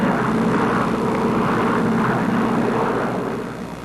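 A propeller airplane flying over the sea gives off a loud, continuous engine drone that holds steady throughout and eases off slightly at the very end.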